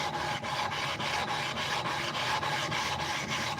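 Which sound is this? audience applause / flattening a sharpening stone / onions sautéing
flattening a sharpening stone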